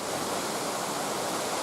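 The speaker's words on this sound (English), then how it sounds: "I think I found that little waterfall." Small waterfall on a trail at Pictured Rocks, a steady close rush of splashing water with broadband hiss and no pauses, heard alone without voices.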